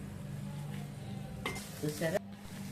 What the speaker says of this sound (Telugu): బంగాళాదుంపలు బఠానీ ఇంకొక 5 నిమిషాలు ఇలాగనే వేయించుకోవాలి